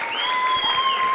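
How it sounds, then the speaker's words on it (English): A happy arena crowd at a boxing event cheers and applauds after a unanimous decision, a steady wash of clapping and shouts filling the room, with no talk on top. "A lot of people cheering for him here."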